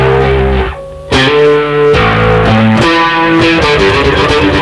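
Electric bass strings are popped fast with the fingers, giving a loud, dense run of snapping, distorted notes that keeps going without a pause and with no talking.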